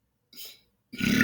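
Two deep belches from a man, a short one followed by a louder, longer guttural burp, alone in otherwise silent surroundings.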